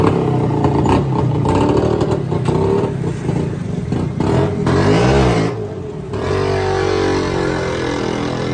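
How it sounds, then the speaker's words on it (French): Motorcycles and tuk-tuks clatter and rev through the narrow streets of Lahore, a dense, continuous mix of small engines passing close by, with rising and falling revs throughout. "le bruit des motos et des tuk-tuks qui zigzaguent dans les ruelles"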